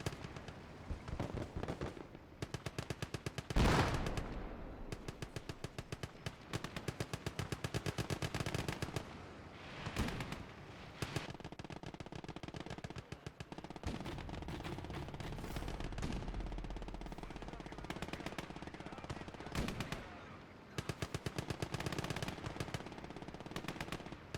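Rapid bursts of .30 cal machine guns firing in a WWII battle in the Gates of Hell game, dense rattling volleys nearly continuous, with sharp louder cracks and explosions mixed in, loud and close.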